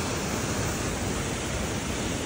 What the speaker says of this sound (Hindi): मैं आ गया आबशार